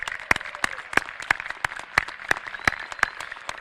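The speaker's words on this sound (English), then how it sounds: "Let's give them a round of applause." Rhythmic clapping at a college matriculation ceremony for the incoming class, sharp evenly spaced claps about three per second, fairly close and moderately loud, without talk.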